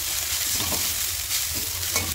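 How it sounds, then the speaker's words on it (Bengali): Egg chowmein is stir-fried in a pan, giving a loud, crackling sizzle with brief scraping stirs across a couple of seconds, no talk. "একটু ভালো করে নেড়ে ফেলে নিচ্ছি, এটা ডিমটা সবার সাথে চাউমিনটার মধ্যে পুরো ভালোভাবে চলে যায়।"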